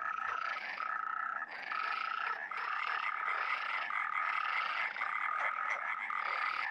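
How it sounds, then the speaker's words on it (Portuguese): European tree frogs calling at night in spring by a lagoon, a dense, loud chorus of rapid repeated croaks in pulsing bursts with no voices. "O coachar de acasalamento das rãs realça a cor das flores."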